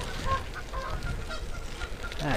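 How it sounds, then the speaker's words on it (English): Geese honk repeatedly at a moderate distance beside a rural bike trail between Treloar and McKittrick, Missouri, heard over steady wind rush and road noise from a moving bicycle. "Here's some geese."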